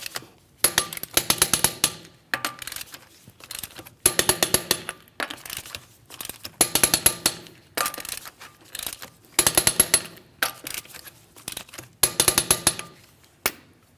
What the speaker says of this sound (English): We're going to torque these to that 100 foot-pounds in a crisscross manner.